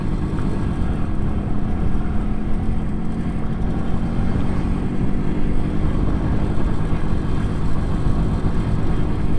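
An MZ motorcycle rides steadily along a half-mile countryside driveway through parkland, its engine droning loud and continuous from start to finish with no talk over it.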